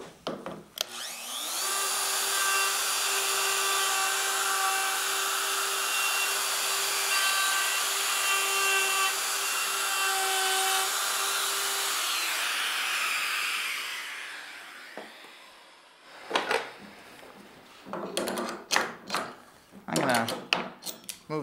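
A small router cuts door hinge mortises with a template while hanging a new door in an old jamb, whining loud and steady for about fifteen seconds before spinning down, followed by scattered knocks and handling sounds.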